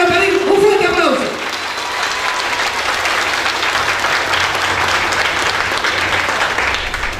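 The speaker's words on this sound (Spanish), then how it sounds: "Para él quiero pedir un fuerte aplauso." A crowd at a political campaign rally breaks into strong, sustained applause that swells just after the announcer's voice fades and stays dense and loud throughout.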